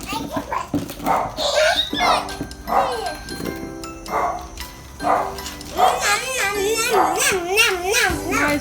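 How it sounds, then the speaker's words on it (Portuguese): A dog barks repeatedly through the scene, close and insistent, mixed with children's voices and adults talking around a makeshift outdoor campfire. "Meu, esse cachorro não cala."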